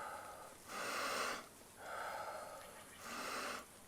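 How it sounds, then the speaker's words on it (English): Three deep, full breaths drawn in a Wim Hof breathing session, each a broad airy rush lasting under a second, spaced closely and evenly, close to the ear with no talking. "And then I do all the way from the bottom, all the way like real full breath,"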